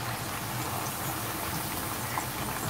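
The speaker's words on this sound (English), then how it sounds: "Gotta be patient when you're frying." Corn dogs coated in french fries and tater tots deep frying in hot oil during a plant-based cooking class, giving a steady, dense bubbling sizzle that stays loud and even throughout, with no talk over it.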